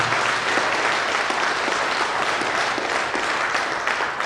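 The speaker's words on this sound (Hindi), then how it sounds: "सर तालियां एक बार जोरदार बजा दीजिए।" Loud, dense applause from a large audience at a company's first-anniversary event, a steady, continuous roar of many hands clapping at once with no pauses.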